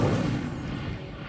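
The Incendio fire spell from a Harry Potter video game goes off as a loud, dense, rumbling whoosh of flame. It holds steady for about a second before starting to fade.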